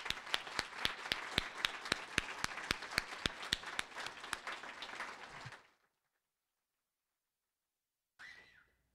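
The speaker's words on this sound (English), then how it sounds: "another round of applause" Audience applause for award winners at the 2011 GRAHEN Awards, sharp sustained clapping from a room of people for about five and a half seconds before cutting to silence, then a brief faint rustle near the end.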